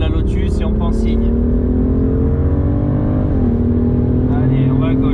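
A BMW M2 CS accelerating hard on the Circuit Paul Ricard track at Le Castellet, its engine note rising steadily, dipping briefly at a shift, then climbing again, loud and close inside the cabin.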